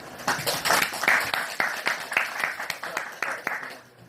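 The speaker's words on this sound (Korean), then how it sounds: "뜨거운 박수 한 번만." A small audience at a rural youth presentation gives a short, loud round of clapping with distinct rhythmic claps, fading out toward the end.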